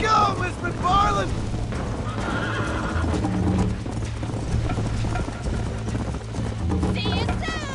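Horse hooves clip-clop steadily through a cowboy video game ride, mixed with whinnies, background music and game effects while voices talk over it.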